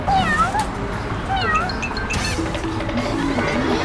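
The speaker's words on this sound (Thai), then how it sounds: "แมวหนี" A cat meows repeatedly in short, insistent calls at a market fruit stall, over busy background chatter and noise.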